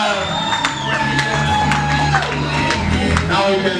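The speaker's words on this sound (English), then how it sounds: "Can we clap our hands together?" Wedding guests clap and cheer loudly, with whoops and shouts rising over a crowd and music-like tones throughout the short burst.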